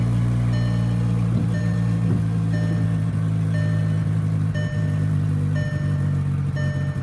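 A car engine idling with a check engine light on and a recurring putting misfire, heard as a steady low hum with faint periodic pulses and beeps repeating about once a second.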